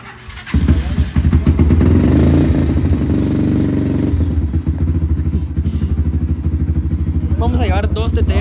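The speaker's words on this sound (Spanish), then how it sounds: "vamos a comenzar a subir las motos." A TTR 230 dirt bike engine idles loudly and steadily nearby while motorcycles are loaded, with some rattling clatter, and a voice speaking briefly near the end.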